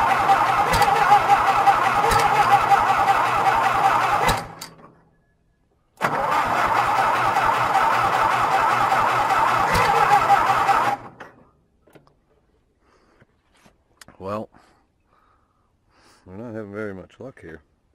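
A John Deere tractor engine on a cold, wet winter day cranks twice in long loud bursts, each stopping without catching, followed by quieter scattered noises and brief bits of activity.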